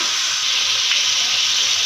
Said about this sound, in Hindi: अब इसमें जाएगा अदरक लहसुन का पेस्ट और इसको अच्छे से जो है हम इसकी भुनाई करेंगे 2 मिनट